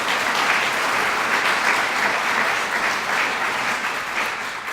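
Full, continuous applause from an alumni assembly audience at a Cranbrook reunion awards event, dense and even throughout before tapering slightly at the end.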